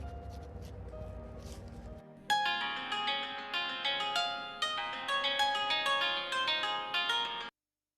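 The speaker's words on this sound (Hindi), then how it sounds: "मैं दिनेश को फोन करके पता करता हूँ ना" A phone rings as a call is placed. After a brief low murmur, a bright melodic ringtone pattern repeats in regular phrases for about five seconds, then cuts off abruptly.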